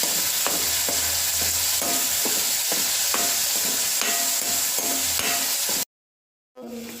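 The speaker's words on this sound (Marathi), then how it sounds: "टोमॅटोची प्युरी घालूया. सर्व मिश्रण एकजीव करून घ्यायचं." Masala and tomato purée fry in a pan for a restaurant-style paneer and mixed vegetable curry. A loud, steady sizzle runs under regular stirring scrapes, then cuts off abruptly near the end before resuming.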